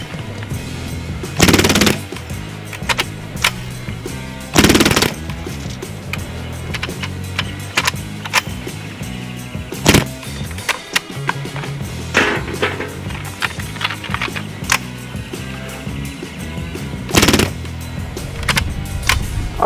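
A Hatsan Blitz air rifle firing in rapid bursts while malfunctioning, loud and near, with sharp repeated reports over a rattling mechanical whir and uneven pauses between strings of shots.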